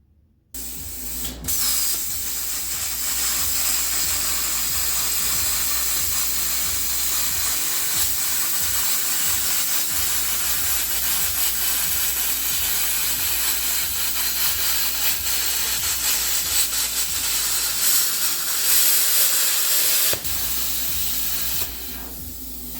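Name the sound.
Yeswelder Cut 65DS plasma cutter cutting metal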